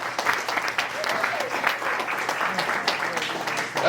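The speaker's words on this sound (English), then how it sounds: "Let's hear a round of applause." A comedy night crowd applauds a performer after a trick, with a thick, continuous burst of clapping that stays loud throughout while voices murmur underneath.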